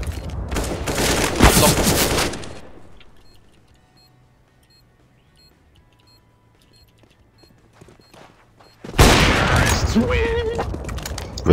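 Gunfire rattles in a competitive Counter-Strike: Global Offensive match, with a loud burst of rapid shots, a long near-silent pause, then a second heavy volley of shots.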